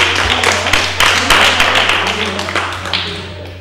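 A group of children claps in a steady burst of applause at a library event, loud and close, fading slightly toward the end with a low hum underneath.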